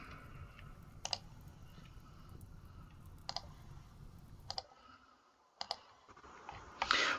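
Sharp, sparse computer mouse clicks during a RimWorld game session, roughly half a dozen quiet taps spaced irregularly over a faint background hum.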